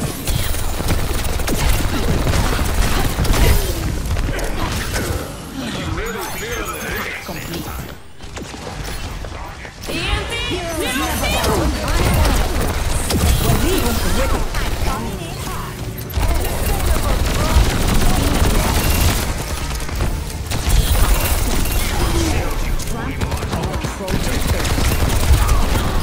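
Dense, continuous gunfire and mechanical clatter from an enemy turret in Overwatch 2 fill the whole stretch, loud and sustained, while a voice talks over it.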